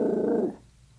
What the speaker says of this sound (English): Sorry, Bonnie's barking at me.